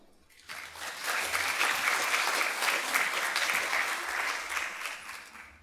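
Audience at the ATEPS 2025 event clapping to welcome three expert panellists, a sustained burst of applause swelling quickly, holding steady for several seconds, then tapering slightly.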